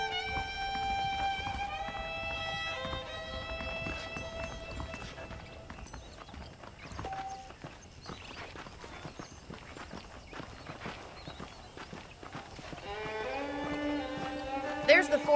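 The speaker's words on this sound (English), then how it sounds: "The horses are saddled up over here." Steady clip-clop of horse hooves in Red Dead Redemption plods along beneath a tinkling musical score, with a voice speaking over it.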